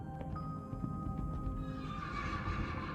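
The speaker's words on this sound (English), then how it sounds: "This is a wild horse." A wild American mustang horse gives a long, wavering whinny close by, carried over a constant low rumble of wind and moving ground.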